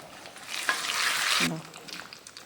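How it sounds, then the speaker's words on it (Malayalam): A hot tempering of mustard seeds and curry leaves is poured into a curry and gives a short, bright sizzle that rises, holds for under a second, then fades, with a faint voice afterward. "ഇട്ട് കടുക് പൊട്ടിച്ചിട്ട് അതിൻ്റെ അകത്തോട്ട് ഒഴിക്കുക"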